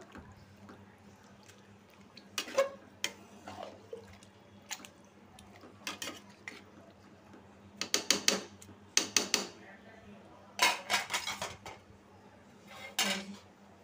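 Lid set onto a cooking pot of beef curry with potatoes, heard as close metallic clanks and rattles in several short bursts, with some handling sounds and quiet gaps between them.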